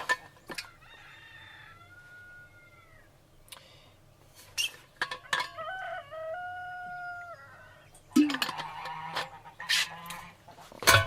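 Roosters crow repeatedly on a farm during daily chores, several loud, drawn-out calls from more than one bird, with honking and clucking fowl nearby and occasional thumps between the crows.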